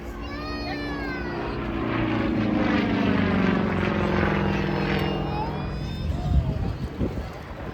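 A fully aerobatic propeller light aircraft flying at an airshow, its steady engine drone swelling and fading as it passes, with people talking over the sound.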